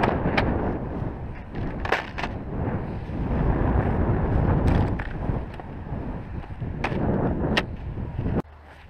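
Strong wind on a ski slope buffets the microphone in heavy, continuous gusty roaring, with occasional sharp knocks and rustles.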